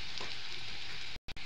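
Chopped onions sizzling in hot oil with a pinch of five-spice while frying for a bean bhaji, a steady close crackling hiss that cuts out abruptly near the end with a brief stir.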